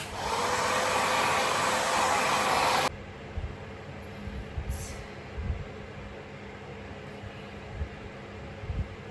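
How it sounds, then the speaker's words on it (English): A hair dryer blows loud and steady for about three seconds while drying a glueless 13x6 frontal wig during an install, then cuts off, leaving quiet room tone with faint handling bumps. "Then I'm gonna blow dry until it's completely dry"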